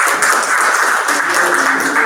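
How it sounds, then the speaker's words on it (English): Applause fills a talk venue at the close of a presentation, a dense, steady patter of many hands clapping at close range. "Big applause."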